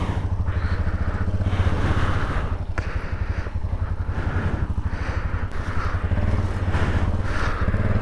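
Yamaha XT660 single-cylinder motorcycle being ridden, its engine droning steadily and loud up close with a rhythmic low thump, rising and easing as gears change, wind buffeting over the top.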